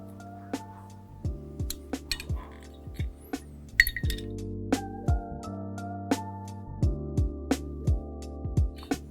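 Sharp metallic clinks and taps from tightening fog light bracket bolts on a Bronco light bar, coming in irregular bursts over a steady humming background.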